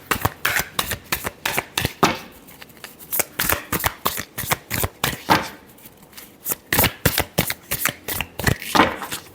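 Tarot cards are shuffled up close during a reading, with rapid, crisp riffling bursts repeating in quick rhythmic runs and short pauses between them, loud throughout with no talk over them.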